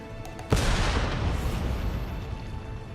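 A cannon fires once in the video game Nioh 3, a sudden heavy boom followed by a long rumbling decay over continuous game background noise.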